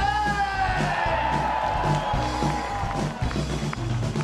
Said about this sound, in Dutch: Dan hier een applaus voor hemzelf dan.